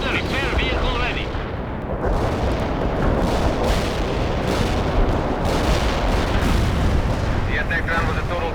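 Battle in the strategy game World in Conflict, with gunfire and explosions rumbling continuously as a dense, loud wall of booms and shots throughout, while voices talk over the fighting.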